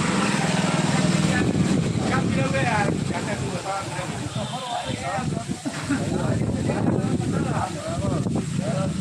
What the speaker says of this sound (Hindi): बहुत तेज हवा चल रही है दोस्तों